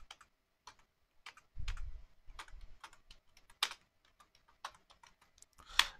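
Cisco router commands typed on a computer keyboard: a steady run of crisp, close key clicks with irregular rhythm, a few heavier strokes and the spacebar thumping among them, no voices.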